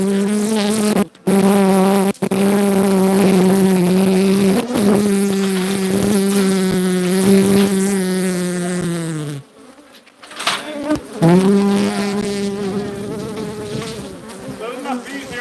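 A swarm of bees in a video game makes a loud, close, continuous droning buzz. It drops out briefly twice early on, then fades for about two seconds near the end before returning at full strength.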